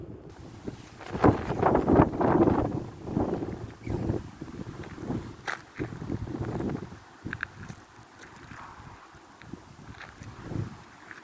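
Wind gusts during Storm Denis: blustery, rumbling buffeting that swells and fades in uneven waves, with intermittent knocks and rustles, and no talk.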